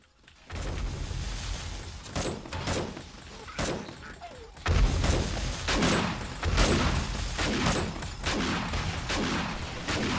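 Twin automated turrets in the survival game 7 Days to Die fire repeated loud bursts of gunfire, sharp cracks coming in irregular clusters over a dense, rumbling background of combat noise.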